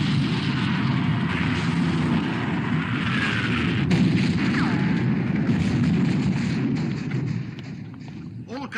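Warship guns fire in a black and white war film about the sinking of the Bismarck, a loud, continuous rumbling roar of heavy gunfire and blasts that eases off near the end.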